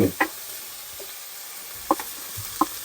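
Onion added to a hot pan, giving a few short, faint sizzling and scraping bursts spaced apart against quiet background hiss.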